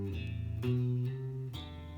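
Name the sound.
guitar banjo roll, hybrid picking, 7 and 8 on low E, open D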